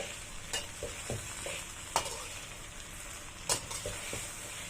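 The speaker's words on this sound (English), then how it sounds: "I'm gonna keep stirring, like I said, till the fragrance comes." Sardine gravy is stirred in a hot pan for an Indian recipe, a soft low sizzle with a few scattered scraping clinks of the spoon, quiet and close with no speech.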